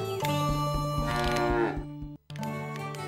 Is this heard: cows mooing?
yes